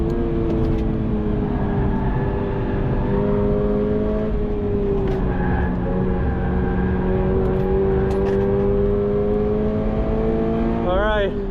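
A Subaru BRZ or Toyota GR86 sports car runs hard on a race track near its limit, with the engine holding a loud, sustained whining note that slowly shifts in pitch as the car slides through a corner, and a driver talks over it.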